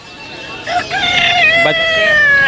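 Aseel chickens with chicks cluck and cheep close by in a busy, continuous mix of bird calls.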